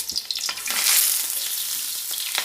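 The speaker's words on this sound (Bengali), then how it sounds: "আমি এখন একটা একটা করে তেলে ভেজে নেব।" Boiled, cut pieces are dropped one by one into hot oil and fried in a home kitchen, giving a close, continuous sizzling crackle with occasional sharper pops and stirring.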